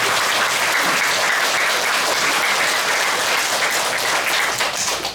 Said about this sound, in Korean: 다시 해조음 합창단을 향해서 감사의 박수를 합니다.